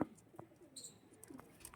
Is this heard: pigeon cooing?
yes